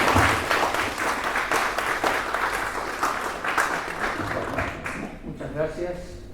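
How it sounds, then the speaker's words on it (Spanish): An audience applauds to welcome a speaker at the opening of a film festival, steady clapping from a crowd throughout that thins toward the end, where a voice begins to speak. "Les pido que lo recibamos al maestro Fusito con un aplauso muy fuerte."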